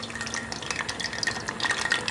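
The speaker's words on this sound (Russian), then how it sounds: "Закипает." Bubbling, gurgling liquid coming to a boil in a pot, with irregular small pops and a steady rushing hiss close at hand.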